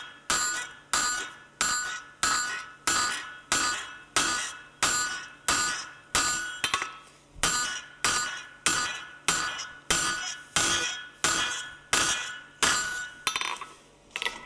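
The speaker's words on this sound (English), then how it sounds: "I hammer in the same spot every time." Rhythmic hammer blows ring against metal on an anvil, roughly two strikes per second, bright and close, continuing steadily.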